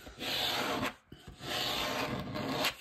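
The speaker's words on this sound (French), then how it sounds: "il faut bien venir plaquer le plus possible le scotch." Two long, steady rubbing strokes of tape being pressed flat against cardboard, separated by a brief pause with a couple of light knocks, close and fairly loud.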